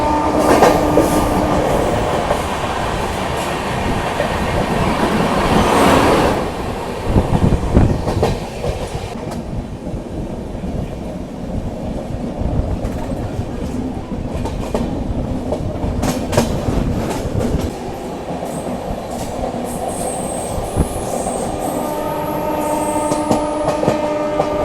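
The Bihar Sampark Kranti Express runs from New Delhi toward Darbhanga, crossing Tilak Bridge with loud, steady rumble and repeated clickety-clack of wheels over rail joints, heard from on board with no voices.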